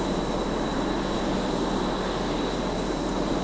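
A helicopter flies in the naval combat game Sea Power, giving a steady, dense rotor-and-engine roar that holds at an even loudness throughout with no talking over it.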